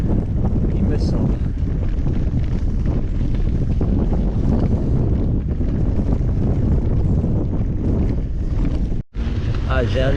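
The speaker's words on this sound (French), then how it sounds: "j'ai un petit bout de vent dans le dos là parce qu'il me fait revenir vers les terres." Wind buffets a microphone on a bicycle ride along a coastal route, a loud, constant low rumbling roar that covers the whole stretch and cuts out for a moment near the end.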